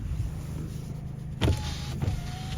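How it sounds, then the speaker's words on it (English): Power windows on a 2021 Ford Ranger Wildtrak 2.0 EcoBlue automatic whir in two short motor runs, each ending with a soft thunk, close and clear against a quiet cabin hum. "All the windows work great."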